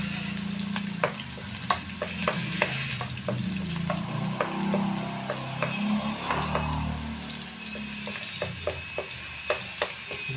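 Garlic sautéing in hot oil in a pan gives a steady, close sizzle, broken by regular scraping and tapping as a utensil stirs it around the pan.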